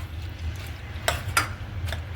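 A spoon or utensil scrapes and clinks against a pot while zucchini is stirred into cooked pasta in a home kitchen, two or three distinct clacks over a low steady hum, fairly close and without talk.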